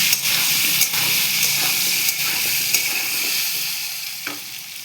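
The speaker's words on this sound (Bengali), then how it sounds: "এই আমার লাল লাল আলু ভাজা হয়ে গেছে" Potatoes frying in hot oil with a pinch of salt and turmeric give a loud, steady sizzle that fills the whole stretch, with occasional brief crackles and soft stirring scrapes.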